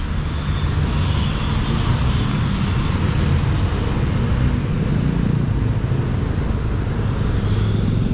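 An airplane passes overhead near the airport in Guatemala City, heard as a steady, loud, broadband roar of engine and wind noise that holds for about eight seconds with no talking.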